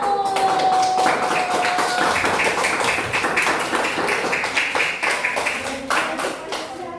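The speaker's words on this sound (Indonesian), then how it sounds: "kasih aplaus untuk kelompok 1" A small classroom discussion group applauds group 1, a brief burst of many hands clapping close by that runs steadily for several seconds and then tapers off.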